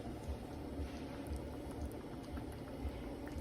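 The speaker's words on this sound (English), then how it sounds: "This is called a simmer" Sauce simmers in a pot on low heat, with small bubbles popping in a soft, continuous close-up burble and no speech.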